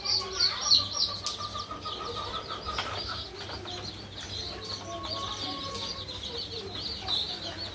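Chickens of hill and other breeds with their chicks in a brooding pen give scattered clucks and high peeping chirps, with occasional wing flaps, all fairly close and continuous.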